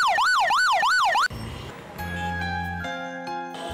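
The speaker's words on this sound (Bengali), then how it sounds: "তাহলে অযথা সাইরেন বাজাচ্ছেন কেন?" A vehicle siren wails loudly in a rapid rising-and-falling pattern on a road, then cuts off abruptly after about a second, leaving other steady tones and traffic noise.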